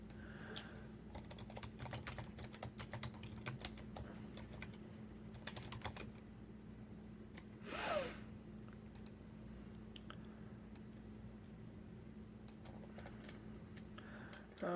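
Rapid, quiet clicking of fingers typing on a computer keyboard runs in quick bursts with short pauses, close and faint, with a brief louder rustle partway through and no talk.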